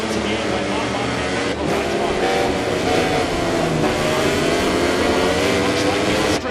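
MotoGP racing motorcycles at the Thai Grand Prix in Chang roar past with a steady high-pitched engine wail that stays loud throughout, blending with crowd and commentary noise.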